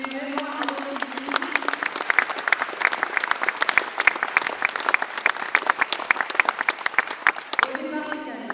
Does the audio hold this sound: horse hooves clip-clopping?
no